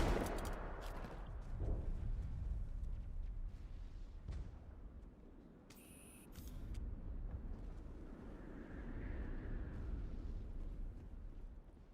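A grenade explosion in Mass Effect, a strong boom at the start decaying into a long low rumble, with later swells of battle noise and a short bright electronic tone midway.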